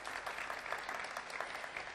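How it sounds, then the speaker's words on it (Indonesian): Audience applause at the MPR RI 2015 quiz competition, steady dense clapping from a crowd in a hall, sustained evenly throughout without speech. "tepuk tangan."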